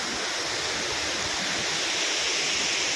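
Thoovanam waterfall roars with forceful rushing water, a loud, steady, broadband wash filling the scene without pause, heard up close with no other sounds standing out.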